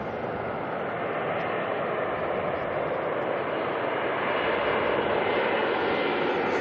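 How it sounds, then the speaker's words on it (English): An Air New Zealand A320neo arriving at Auckland Airport from Queenstown gives a steady, loud jet roar that holds and swells slightly toward the end, with no talk over it. "Next arrival coming on in NZ618 from Queenstown. A320 Neo."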